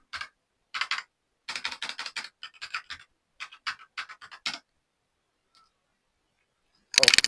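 Rapid bursts of keystrokes on a computer keyboard while entering commands on an Ubuntu server, clustered in quick runs with short pauses, then a final harder flurry of keys at the end, close and alone without talk.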